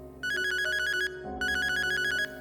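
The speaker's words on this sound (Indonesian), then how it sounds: "Saya telepon lah Mbak Sinta" A telephone ringtone trills loudly and close in two ringing bursts separated by a short pause, with no voices over it.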